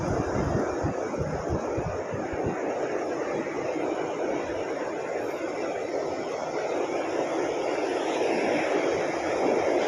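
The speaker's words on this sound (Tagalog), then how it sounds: "Malakas ang alon." Strong waves surging near a mangrove-lined shore in the rural Philippines, a steady broadband roar with heavy wind buffeting the microphone throughout, continuous and close, no voices.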